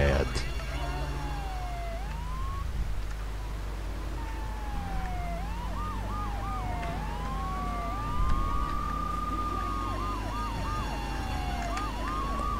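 A police car siren from the video game GTA 3 wails and yelps with repeated rising and falling sweeps over a steady engine and game background, moderately faint, with a voice talking now and then.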